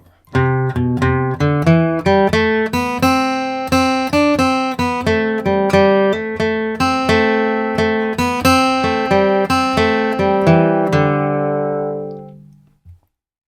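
A flatpicked acoustic guitar plays the bluegrass tune Billy in the Lowground, bright single notes in steady rhythm, ending on a ringing chord that fades out.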